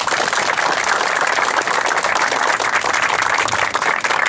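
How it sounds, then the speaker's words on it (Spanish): A crowd in a park applauds during a memorial tribute, with dense, continuous clapping that stays loud and even from start to finish. "Un aplauso para él, por favor."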